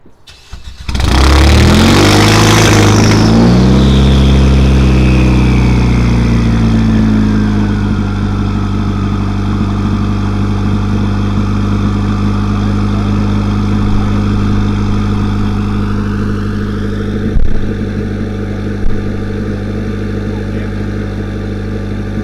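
A Nissan Juke Nismo with a complete cat delete and turbo-back straight pipe fires up with a loud flaring roar, then settles into a steady, droning, raspy idle close by.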